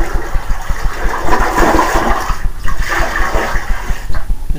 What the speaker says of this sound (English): The trick here is to pour fast and then the toilet flushes down